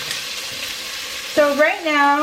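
Chopped poblano peppers sizzle softly in a pan with a steady frying hiss, and a voice speaks over it toward the end.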